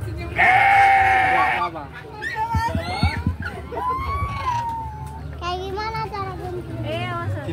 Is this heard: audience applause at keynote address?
no